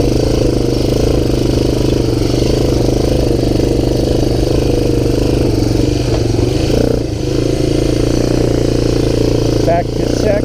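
Honda TRX250 ATV engine running steadily and loud throughout while being ridden, a continuous droning motor with clattery mechanical noise and slight shifts in pitch, close to the rider.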